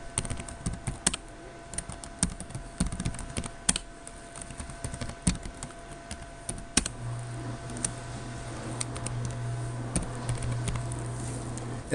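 Rapid, irregular clacking of fingers typing on a computer keyboard while entering autocorrect entries in Microsoft Word 2010, close and fairly quiet, with a steady low hum joining partway through.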